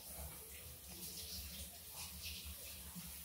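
Water sloshes and trickles as half a spoon of syrup is poured and mixed into a container of drinking water for chicks, a soft, close splashing.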